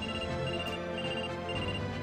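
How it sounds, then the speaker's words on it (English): Telephone ringing in the video game Trauma Center: Second Opinion, a steady electronic ring tone held across the whole moment at moderate level against a musical background, with no talk. "A phone call?"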